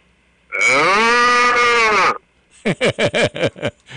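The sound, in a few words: voice imitating a cow mooing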